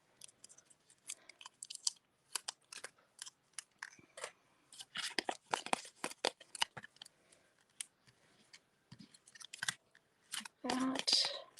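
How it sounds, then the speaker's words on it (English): Scissors snip repeatedly in short, uneven crunchy cuts, close up and fairly quiet, with a few rustles of paper between them. "I'm just going to take my scissors and cut"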